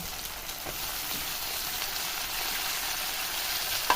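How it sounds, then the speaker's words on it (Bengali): Broad beans frying with chopped onions in a pan after potatoes, a steady, moderately loud sizzle throughout with a few faint stirring knocks near the end, no voices. "আলুগুলো ভেজে হওয়ার পরে আমরা পেঁয়াজ কুচির সাথে শিমগুলো ভেজে নেব"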